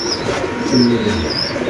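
At a pigeon market, a pigeon gives a soft low coo in the middle of the moment, with faint chirps and a constant crowd-like murmur around it.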